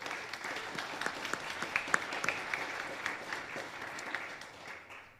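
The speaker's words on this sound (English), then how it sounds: "So give yourselves a round of applause" A congregation at a Unitarian fellowship's Stewardship Sunday service gives a round of applause, an even, fairly distant wash of many hands clapping that carries steadily for several seconds before tapering off.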